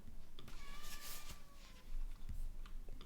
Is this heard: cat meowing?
yes